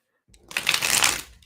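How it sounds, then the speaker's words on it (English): A tarot card deck being shuffled by hand, one quick riffling burst of flapping card edges lasting about a second, close and crisp with no talking. "Gonna just get this deck nice and shuffled."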